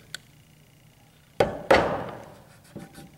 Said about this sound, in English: I can set this nail, there we go, just a little bit deeper into the wood